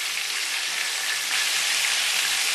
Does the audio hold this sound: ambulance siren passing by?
no